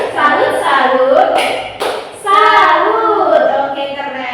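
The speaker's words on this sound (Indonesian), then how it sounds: "Kita tepuk salut dulu" A class of schoolchildren claps along to the Indonesian tepuk salut clapping chant, bursts of hand claps mixed with loud chanting voices close by, a brief pause in the middle before the chant resumes.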